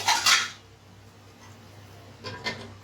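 Biryani spice mix is stirred and fried in a cooking pot, with two short bursts of metallic scraping and clinking from a spoon against the pot, separated by a quieter stretch of low kitchen hum.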